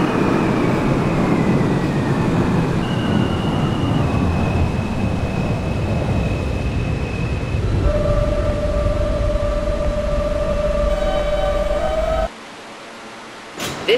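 An R160 subway train on the A express line runs in the OpenBVE simulator, with a loud steady rumble and a rising motor whine over several seconds that drops away near the end.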